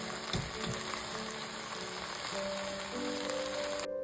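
Rice with soy sauce, fried eggs and a little vinegar frying in a pan, giving a steady, close, continuous sizzle throughout with faint scraping and no talking.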